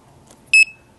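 A Fieldpiece SMAN4 wireless digital manifold gives a single short, sharp electronic beep, loud and close, preceded by a faint click against a quiet background.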